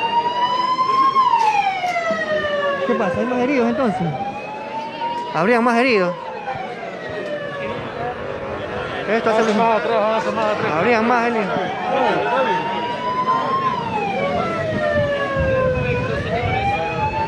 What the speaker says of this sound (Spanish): Continúan llegando más ambulancias. Ahí viene otra ambulancia